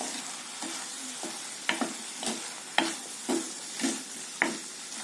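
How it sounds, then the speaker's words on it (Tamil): Bottle gourd pieces sauté with masala in hot oil for sambar, a soft continuous sizzle broken by about eight scraping stirs of a spoon against the pan, close and fairly quiet with no voices. "இந்த மசாலாவை காய் கூட சேர்த்து நல்லா வதக்கிக்கோங்க."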